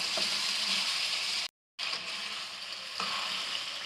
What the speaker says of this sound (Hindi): 5 मिनट तक हम चिकन को फ्राई करेंगे, यहाँ तक कि चिकन पे गोल्डन सा कलर आ जाए।